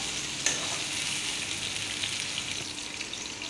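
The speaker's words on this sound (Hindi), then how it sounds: "मैंने ये टमाटर डाल दिया 1 प्याली कटी हुई, इसे थोड़ा चम्मच से जो है मिला लें।" Chopped tomato with garlic frying in a pan and being mixed with a spoon gives a steady, moderately soft sizzle with a few light stirring clinks, and no one speaks.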